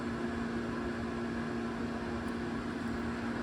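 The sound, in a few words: dehumidifier running in background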